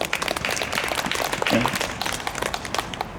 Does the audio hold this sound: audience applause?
yes